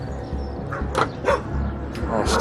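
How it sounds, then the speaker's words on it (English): A dog barks several times in short, sharp bursts from behind a house, fairly close, with steady background noise between the barks. "Dog."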